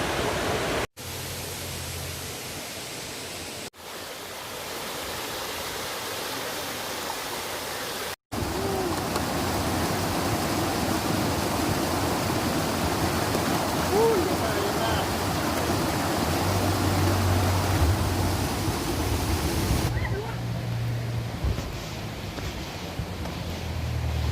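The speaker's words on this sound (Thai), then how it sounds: "ผมก็จะพาเพื่อนๆแวะชมน้ำตกแม่กำปองนะฮะ" Mae Kampong waterfall in Thailand pours in a broad, constant rushing hiss, heard close and loud after a few brief cuts early on, continuing unbroken to the end.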